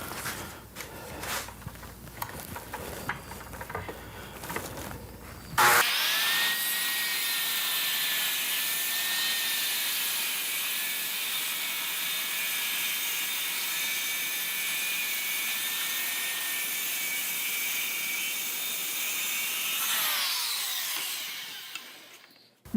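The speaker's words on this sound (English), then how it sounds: "I've got a pattern bit chucked up in my trim router" A trim router with a pattern bit cuts pallet wood slats, a loud high whine that starts abruptly after some handling noises, holds steady, then spins down at the end.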